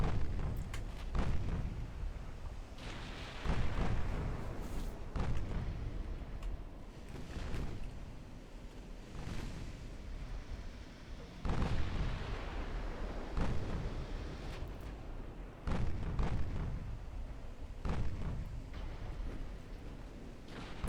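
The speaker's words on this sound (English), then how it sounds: "All guns on the main guns on the battleship, secondaries on the enemy cruiser, if you please." Battleship main guns and secondary batteries fire in the naval video game Ultimate Admiral Dreadnoughts, USA versus Italy custom battle, as a series of loud booming salvos repeating every few seconds over a rumbling sea backdrop, with no talk.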